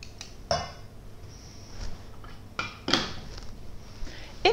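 A metal whisk clatters against bowls and utensils as it is picked up in a home kitchen during no-knead bread making with egg, honey and kefir, giving a few sharp, close clinks and knocks over a quiet background.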